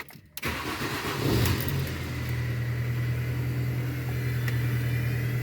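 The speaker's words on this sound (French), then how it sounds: "Démarrons la voiture pour voir." A car engine cranks briefly and catches, then settles into a steady, loud idle close by, a continuous low hum holding on alone.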